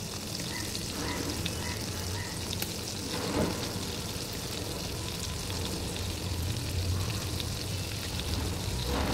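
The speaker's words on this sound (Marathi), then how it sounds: "त्यामध्ये लसूण टाकायची बारीक करून," Finely chopped garlic frying in butter in a pan, giving a steady, close sizzle and crackle that runs unbroken throughout with no talking.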